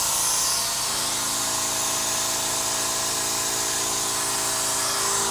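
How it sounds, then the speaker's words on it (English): Pneumatic suction at about 30 psi drawing material into a Hyrel 3D printer cartridge reservoir, a steady loud hissing, whirring air noise that runs continuously and close, with no speech. "you can start to hear it and see the suction pulling up the material into"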